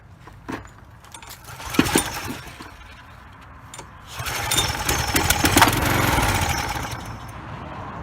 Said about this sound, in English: I'm just gonna squirt some carb cleaner up in the intake. If it runs and stay running, that's a good sign.